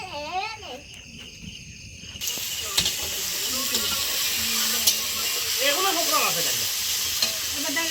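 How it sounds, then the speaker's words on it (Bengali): Goat meat going into a hot kadai for a wedding feast, frying with a steady broadband sizzle that swells after a couple of seconds, with stirring clatter and someone talking over it. "আমি মাংস বসাবো তো কড়াই বসাইছি"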